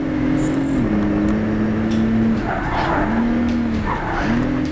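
A race car in Project Cars 3 engine drones loudly and continuously as tires squeal and skid under braking in repeated waves, close and sustained with no talk.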